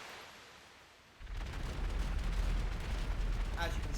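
Rocket launcher fire in GTA 5 on Xbox 360, a sudden loud blast after a quiet start giving way to a sustained roaring explosion rumble that fills the rest of the moment, with a faint voice underneath.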